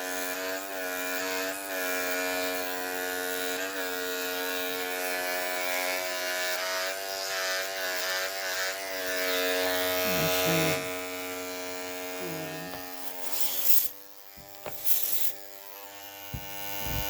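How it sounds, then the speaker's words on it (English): Electric grooming clippers buzz steadily and loudly on a toy poodle's matted coat, the hum running nearly unbroken, then shifting in pitch and briefly cutting out near the end with faint handling sounds. "The volume of the clippers change when we do that, and it lubricates it"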